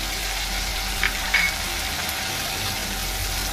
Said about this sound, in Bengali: টমেটোগুলো একটু ভেজে নেব, সামান্য চাপা দিয়ে একটু ভাজবো